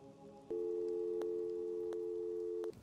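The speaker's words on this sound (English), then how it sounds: "Access my phone, go to the contacts, add the neighbor and his telephone number, and boom, I can actually phone the neighbor." A steady electronic phone call tone from the telephone system in the Rust video game starts abruptly, holds evenly for about two seconds and cuts off, with faint clicks over it and no talking.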